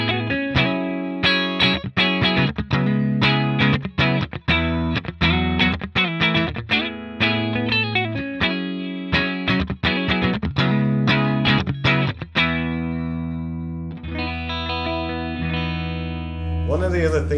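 A Vintage V6M24 electric guitar in the middle pickup position plays funky, choppy chords with a quacky, hollow tone, rhythmic strums cutting on and off before a sustained ringing chord.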